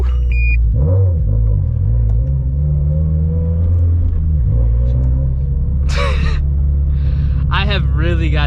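A turbocharged GT86/BRZ/FRS engine holds a loud, steady low drone with slight rises and dips as the clutch is worked, while someone talks over it near the end.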